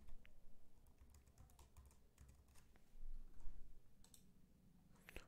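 Computer mouse clicking while building a Java app, a faint scatter of quick, light clicks at irregular intervals over a quiet background, with no voices.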